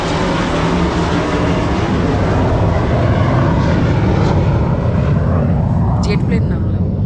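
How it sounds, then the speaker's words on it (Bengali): A jet plane comes in to land nearby, producing a loud, steady roar that fills the whole stretch without letting up. "জেট প্লেন নামলাম, কত জোরে আওয়াজ হলো"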